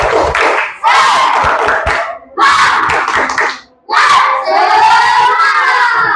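A group of children loudly chant and clap in rhythm, shouting in bursts with short pauses between phrases.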